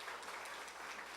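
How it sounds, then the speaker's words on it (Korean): A church congregation clapping together in encouragement, a dense, even patter of many hands, faint and distant, heard only briefly with no pauses. "우리 힘찬 박수로 격려합시다"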